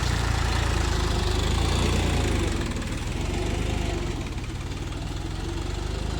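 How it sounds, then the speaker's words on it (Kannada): Sonalika DI 32 Baagban mini tractor pulling a five-tine plough through a field, a steady chugging diesel drone that stays loud and continuous, easing slightly midway. "ನಮ್ಮ ಬ್ರದರೇ ಟ್ರ್ಯಾಕ್ಟರ್ ಓಡಿಸ್ತಿದ್ದಾರೆ ಬನ್ನಿ ನೋಡೋಣ ಯಾವ ಥರ ಹೋಗುತ್ತೆ ಅಂತ"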